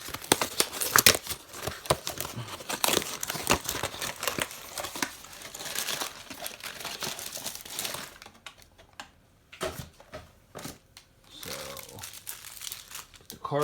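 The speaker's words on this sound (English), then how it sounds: "I'm just gonna rip it open." Miniature figure box packaging for a D&D Eberron Icons of the Realm figure being torn and ripped open, loud close crinkling and tearing of cardboard and plastic in dense bursts, easing to quieter rustles toward the end.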